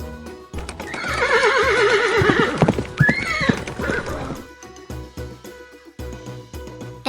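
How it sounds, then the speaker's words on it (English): A horse neighs in a long, loud, wavering whinny with a second rising call, accompanied by clip-clop hoofbeats, then a quieter rhythmic patter follows. "How does the horse go?"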